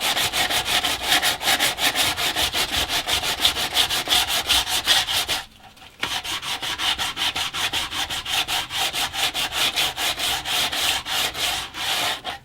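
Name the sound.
sanding a wooden shelf by hand with sandpaper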